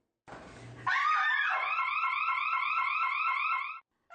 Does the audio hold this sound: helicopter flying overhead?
no